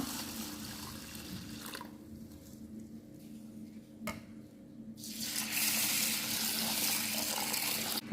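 Water pours in a steady stream into a bowl of jowar (sorghum) for soaking, pausing briefly before flowing again more strongly toward the end.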